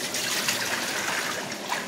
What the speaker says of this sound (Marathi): पाणी फेकून दिल्यानंतर या भांड्यामध्ये, या पातेल्यामध्ये मी पाणी ओतणार आहे